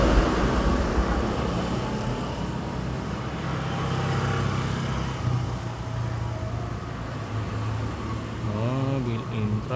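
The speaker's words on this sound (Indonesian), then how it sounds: "Mobil terlewat." A car going by on a quiet street, a steady low engine and tyre rumble swelling and fading, moderate in level, with a voice speaking briefly near the end.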